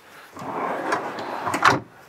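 A drawer beneath the sofa of a 2022 Airstream Pottery Barn Special Edition trailer slides open or shut, a soft rolling rumble ending in a brief sharp knock, close by and fairly quiet.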